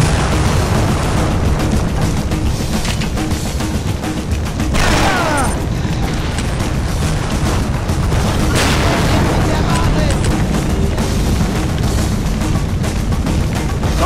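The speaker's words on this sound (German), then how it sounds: "Vorsicht, es könnte noch eine Explosion sein." A large explosion goes off near an aircraft hangar in the shooter game XIII, a dense roaring boom with rumbling blasts that fills the scene loudly and continuously, with voices talking over it.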